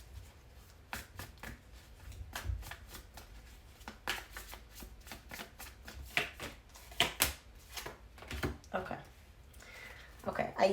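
Tarot cards shuffled by hand in a steady run of soft, crisp riffles and slaps, close up and fairly quiet, with a voice speaking over parts of it.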